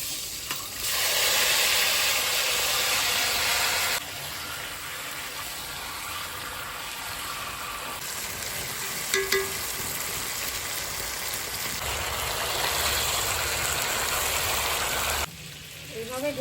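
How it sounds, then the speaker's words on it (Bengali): Bay leaves and whole garam masala spices tempering in hot oil for a country chicken curry, giving a steady broadband sizzle that holds for most of the stretch with a brief break and a short stir partway through. "দুটো তেজপাতা আর গোটা গরম মশলা ফোড়ন দিচ্ছি"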